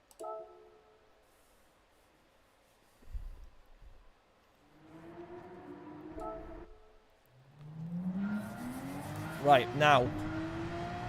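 A Group 3 Porsche 911 at Red Bull Ring in Gran Turismo 7, engine rising from a faint idle to a loud revving surge with climbing pitch near the end, after brief talk.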